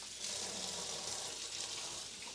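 Warm water pours steadily for a burrito dough recipe, a soft continuous splashing stream running alone at low volume with no talk.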